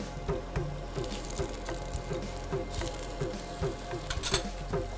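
A millet patty fries on its second side in a pan, giving a soft continuous sizzle with faint irregular crackles up close, fairly quiet throughout.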